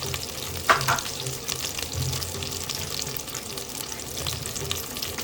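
Whole spices, cardamom, cloves, star anise, cinnamon and a bay leaf, sizzle and fry steadily in hot oil in a pan, with a few louder stirring scrapes near the start.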